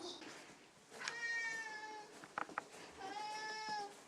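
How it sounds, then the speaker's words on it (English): A cat meows twice outside, each meow a drawn-out, fairly faint cry, with a brief scuffle of clicks between them and soft background noise. "You just outside meowing"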